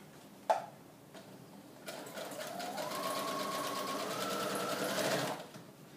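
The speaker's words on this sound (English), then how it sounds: "I am going to actually sew the one that I'm making right now together." A sewing machine stitches pages of a scrapbook mini book together: a sharp click, then a steady close run of rapid needle strokes lasting several seconds before stopping.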